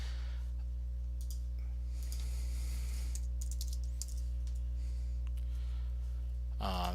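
Fingers type on a computer keyboard, giving bursts of light, quick key clicks spread over several seconds. A low, steady electrical hum sits beneath them.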